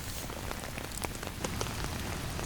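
Steady rain drums on a tent in the Australian bush, a dense, even patter with individual drops ticking close by and no voices.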